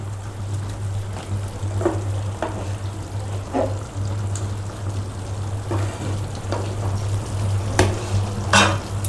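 Kadhai chicken masala cooking in its own released juices in a kadhai, a steady low simmering bubble under intermittent scraping stirs of a spoon against the pan, close and fairly quiet.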